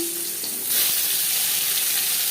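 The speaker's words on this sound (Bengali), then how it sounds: "এবার আলু ভেজে নেব" Potatoes frying in hot oil for an aloo chicken curry, a steady broadband sizzle that swells louder partway through and continues close and alone, with no talking.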